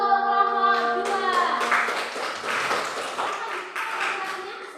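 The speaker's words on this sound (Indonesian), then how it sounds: "berikan aplaus untuk kelompok 2" Applause from a university teacher-training class for a group that has just finished its presentation. A voice comes first, then a steady wash of many hands clapping fills the room for several seconds.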